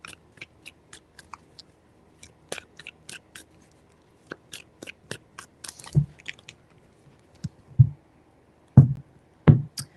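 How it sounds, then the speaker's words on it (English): Tarot cards shuffled in three rounds: a run of crisp, quick flicks and riffles, then three louder, heavier card taps or riffles near the end, close and alone. "Three shuffles."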